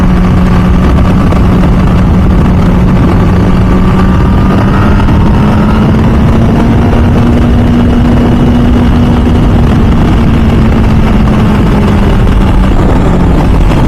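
An MV Agusta F4 Senna motorcycle engine hums steadily during a ride, a loud continuous drone whose pitch rises and falls slowly without sharp revving.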